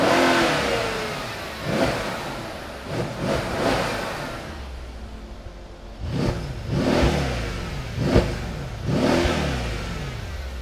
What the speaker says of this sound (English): just an incredible exhaust note, lots of different grunting noises, and you hear the turbo downspool